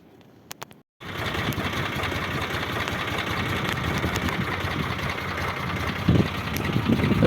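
An MTZ tractor engine idles loudly and steadily after a brief quiet start with a few clicks, its even mechanical chug continuing unbroken and close by.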